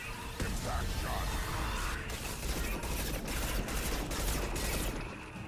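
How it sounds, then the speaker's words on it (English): Anti-ship batteries fire on the Collector vessel in the Mass Effect 2 game, a dense, continuous barrage of booming shots and crashing impacts that fills the whole stretch at high volume. "Firing anti-ship batteries at collector vessel."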